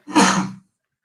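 A single short, sharp sneeze bursts out close and loud, lasting about half a second and followed by silence.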